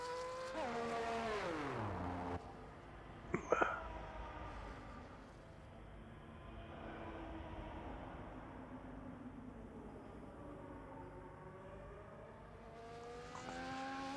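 An Alpine race car on a hot lap at Qatar in a racing video game, its engine rising and falling through gear changes, loud at first, then a softer, more distant drone.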